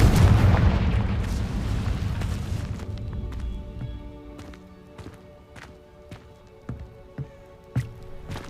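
A loud blast from the Confringo fire spell in Hogwarts Legacy on PS5 opens with a heavy rumbling boom that slowly fades, followed by scattered sharp clicks and thuds from the game.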